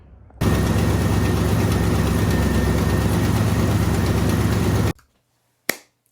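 A repaired white truck's engine runs loud and close in a steady idle drone for several seconds, then cuts off abruptly into near silence, followed by a single short sharp knock.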